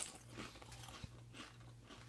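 Vacuum-sealed Pringles potato chips stored since 2012 are crunched and chewed close up, a few faint bites over a low steady hum.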